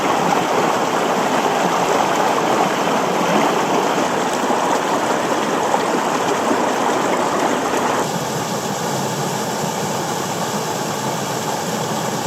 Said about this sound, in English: as I'm walking along the river and taking in the sights and sounds